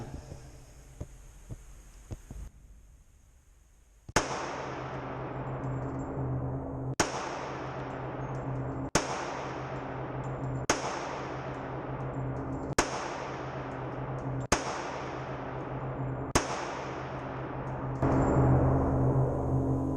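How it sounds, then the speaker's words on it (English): A CZ 97 BD .45 ACP pistol fires seven sharp, loud shots at an outdoor range, the first in double action, spaced roughly two seconds apart, each leaving a short ringing decay over steady background hum. "We'll do 7 with the 97B and then 7 with the 1911. First shot, double action."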